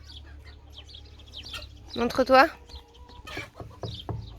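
Chickens on a farm estate in Hyères cluck and squawk, with one loud burst in the middle and softer clucks around it, while people speak nearby.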